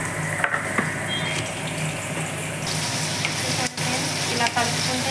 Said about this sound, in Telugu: మనకి ఇలా మనం డీప్ ఫ్రై చేసుకొని పక్కన తీసుకోవాలి మటన్ బిర్యానీలోకి